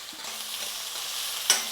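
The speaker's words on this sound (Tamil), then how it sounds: "வெங்காயம் வந்து நல்லா வதங்கட்டும்" Sambar onions sautéing in a pan, giving a short steady sizzle with a spatula scrape and a brief clink near the end, close and without talk.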